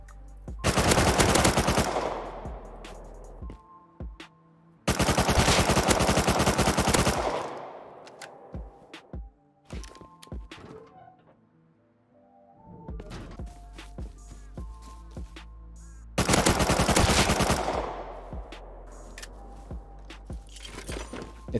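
Gunfire in the video game Rust: loud bursts of rapid automatic fire come in three long volleys, separated by scattered single shots, thuds and quieter gaps.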